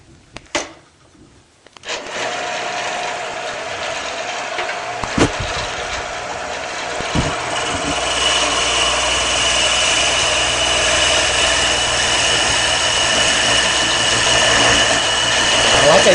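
A Shopsmith lathe turning a wooden taper, with a steady loud motor whir starting after a couple of seconds of quiet and a few sharp tool contacts, then a continuous rubbing cut against the spinning wood.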